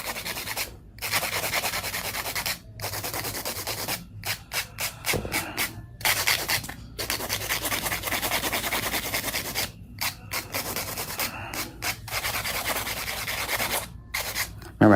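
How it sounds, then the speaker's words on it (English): A hand-held nail file rasps across long acrylic nails shaped into a coffin form, giving close, steady scraping strokes in quick bursts separated by brief pauses. "Now I'm gonna go through and do a little bit of hand filing."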